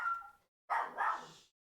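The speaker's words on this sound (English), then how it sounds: "Dog's barking." A dog barks twice indoors, two short, moderately loud woofs separated by a brief silence, with no talk over them.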